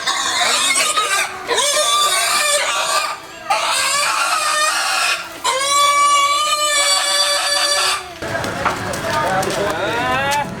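Loud, shrill squeals and grunts from a pig held for slaughter at a Toraja buffalo ceremony, coming in several long bursts with short breaks between them, mixed with rooster crowing.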